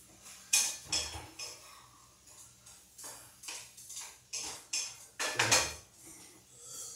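Spatula scraping and clinking against a pan while shrimp are stirred, a series of sharp metallic taps and scrapes at an uneven rhythm, close and fairly quiet, no talking.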